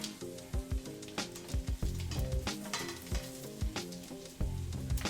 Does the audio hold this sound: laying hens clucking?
no